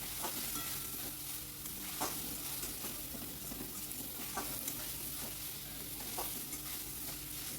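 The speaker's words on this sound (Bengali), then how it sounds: "এই আলুটা দিয়ে বেশিক্ষণ না, কিছুক্ষণ একটু নাড়াচাড়া করে তারপর জলটা দেবো" Potatoes fry in a pan and are stirred, making a continuous close sizzle broken by regular scraping, clinking strokes of a spoon against the metal.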